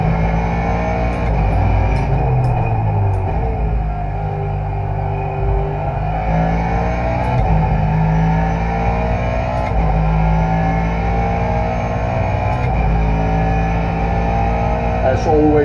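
A Ford GT3 race car engine drones continuously through laps at Interlagos in iRacing, with gear changes and rising and falling revs shifting the pitch, loud and close throughout.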